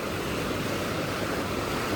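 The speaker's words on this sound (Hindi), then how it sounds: "पानी आ रहा ऊपर वाला। अच्छा वो पानी आउटलेट है।" Water rushing from the outlet of a dam with a turbine inside, a loud, constant, broadband roar that fills the whole stretch without a break.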